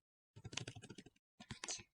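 Computer keyboard keys tapped in two quick bursts while a zip code is entered into a spreadsheet cell, close and fairly quiet with a short pause between runs.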